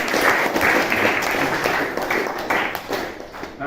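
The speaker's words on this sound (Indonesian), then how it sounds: "coba berikan aplaus dulu untuk kelompok" A classroom of students applauds a presenting student group, steady dense clapping throughout at close range with a brief lull midway before rising again.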